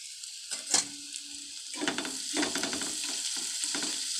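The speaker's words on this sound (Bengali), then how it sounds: "রসুনটা ভালো করে একটু নেড়ে নিতে হবে" Garlic fries in oil in a pan, a quiet close sizzle punctuated by spatula stirs and scrapes against the metal, with occasional light clinks.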